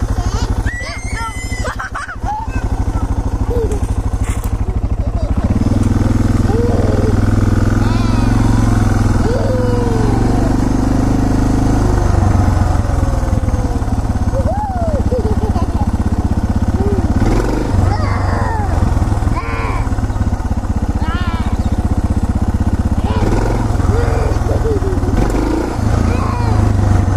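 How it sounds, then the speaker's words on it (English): A motorcycle ride with children, the engine droning steadily and close for nearly half a minute while excited voices chatter and squeal over it. "You want a motorcycle ride?"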